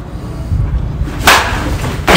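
Swing of a Sinister one-piece, 25-ounce, mid-loaded baseball bat with a floating inner barrel, a sharp bright crack of ball contact at mid-clip followed by a second brief crack near the end, over low outdoor rumble.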